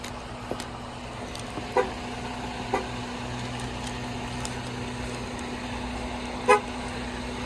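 A few short, sharp car horn chirps from cars being locked, spaced seconds apart, over a steady low outdoor hum with no talking.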